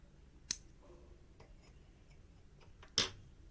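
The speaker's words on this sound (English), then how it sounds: "And then I will cut the yarn" Scissors cutting yarn during a crochet sock project: two crisp, close snips about two and a half seconds apart over a quiet room, with faint soft handling sounds between them.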